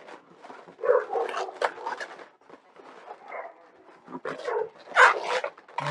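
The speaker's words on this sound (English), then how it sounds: "If you hear the barking, my wife just came home and the dogs are upstairs going" Several dogs bark repeatedly in bursts upstairs, somewhat muffled from another floor, with yips and whimpers between.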